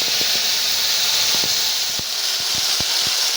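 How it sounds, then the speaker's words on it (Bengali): Nigella seeds are tempered in hot oil for a Bengali fish curry, giving a steady, loud, close hiss of sizzling with small pops and crackles scattered throughout. "তেলের মধ্যে দিয়ে দিচ্ছি কালো জিরে ফোড়ন"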